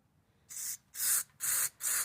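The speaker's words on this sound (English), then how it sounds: "You can spray some in there to make sure it's clear." Four quick hissing bursts from an aerosol cleaner spraying into the plastic carburetor of a Briggs & Stratton 6.25 mower engine, each about a third of a second long, close and loud with brief pauses between.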